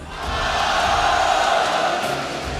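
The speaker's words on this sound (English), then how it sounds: "I literally can feel the roar of the crowds in my chest" A big roaring crowd fills a packed Malaysian MPL MY esports tournament arena, a loud, sustained wall of cheering and shouting that swells in and holds steady throughout.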